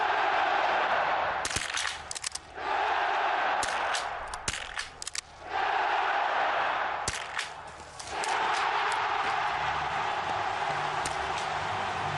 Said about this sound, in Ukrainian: Два неточні постріли